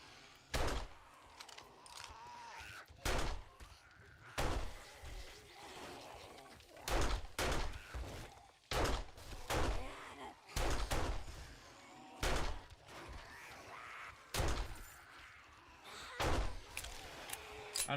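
Gunshots fired at zombie heads in 7 Days to Die during a Horde Night tower defense, sharp loud reports in irregular bursts and singles spread across the stretch, with game noise between them.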